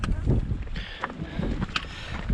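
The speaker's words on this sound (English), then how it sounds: "Gusty, windy," Gusty wind rushes across the microphone on an exposed Grand Canyon trail above the rock shelter, a steady low roar with buffeting swells, while a person talks over it.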